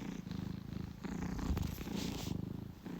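A steady, low rumbling cat purr, close and continuous, with rhythmic pulsing breaths running through the whole stretch and no voices.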